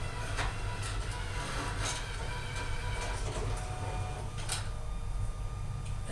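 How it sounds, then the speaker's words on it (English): An Evolis Primacy ID card printer spinning its rollers on a cleaning card, a steady mechanical whirring hum with light clicks and rattles scattered through it, close and unbroken. "It's going to make some funny noises. It'll sit there and spin the rollers."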